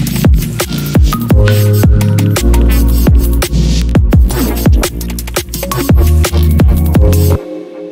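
A loud, dense electronic drop from a remix: heavy sub bass, punchy repeated kicks and bright glitchy percussion that cuts off sharply at the end.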